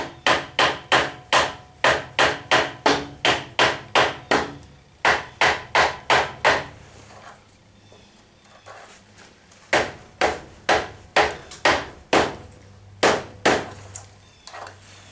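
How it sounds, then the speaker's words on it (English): Hammer blows drive a bolt out of a part of a giant robot, landing in quick rhythmic bursts of sharp, loud strikes with a brief pause midway before the hammering resumes. "So I'm going to try whacking it down here and see if I can just get it to come up here"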